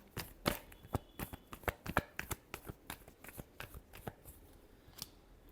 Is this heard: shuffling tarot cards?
yes